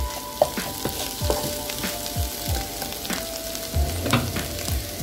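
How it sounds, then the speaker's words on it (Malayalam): Bitter gourd sautéing with chopped tomato and Kashmiri chili powder in a pan, with a soft, continuous sizzle broken by regular spatula scrapes and stirring knocks, heard close and alone. "ഇതിലേക്ക് നമുക്കിനിയിപ്പോൾ ചുമന്ന മുളക് പൊടിയും അതേപോലെ തക്കാളിയും ചേർത്ത് ഇളക്കി നല്ലപോലെ ഒന്നുകൂടെ"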